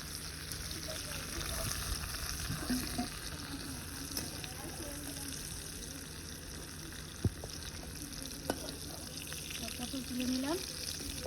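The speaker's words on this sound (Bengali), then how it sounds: "লাল করে ভেজে নেব পটল" Pointed gourd frying in oil, a faint steady sizzle with occasional stirring clinks, with quiet talk underneath at times.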